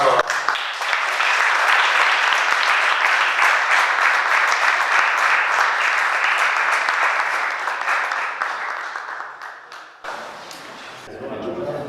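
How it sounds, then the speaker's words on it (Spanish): An audience at a tribute to Jordán B. Genta and Carlos A. Sacheri breaks into strong applause that holds loud and dense for about ten seconds, then thins and drops off, with a voice starting up as it fades. "Le damos nuevamente con un fuerte aplauso."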